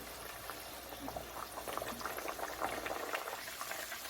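A tortilla fries in oil about three-quarters of an inch to an inch deep in a pan, making a steady fizzing, bubbling sizzle that stays fairly quiet from start to finish.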